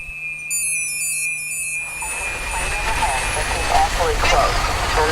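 A low-flying jet airplane roars close overhead, a broad loud engine rumble swelling in after a few seconds and holding steady.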